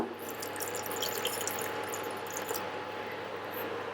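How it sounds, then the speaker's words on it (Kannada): Water is poured into a pot to start making tea, a steady, moderately faint stream that runs evenly for several seconds with no talking. "ಸೊ ಟೀಗೆ ಮೊದಲು ಒಂದು ಸ್ವಲ್ಪ ನೀರು ಹಾಕೊಳ್ಳೋಣ"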